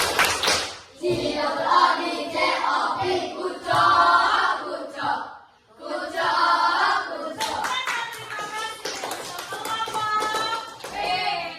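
A classroom of students performs a rhythmic clapping routine, their hands tapping and clapping together in a patterned beat while voices chant along, loud and close, with a brief pause partway through.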